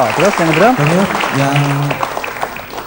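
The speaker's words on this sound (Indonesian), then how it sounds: "Tepuk tangan untuk Mas Pujianto." An audience claps for a band's bass player, a continuous patter of applause running beneath someone talking loudly.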